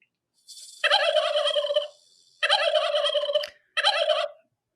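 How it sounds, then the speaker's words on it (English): A turkey gobbler gobbles in three loud, close bursts, the first longest, with short silent gaps between them and no talk. "Turkey gobbler."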